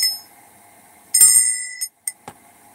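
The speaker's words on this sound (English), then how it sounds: "ring that bell" A bell gives a single bright, sharp ring that decays over about half a second, followed by a couple of brief clicks against a quiet background, with no talking.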